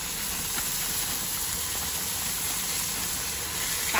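Spinach sautés in a hot pan on a stovetop, giving off a steady, even sizzling hiss that holds at the same level without pause.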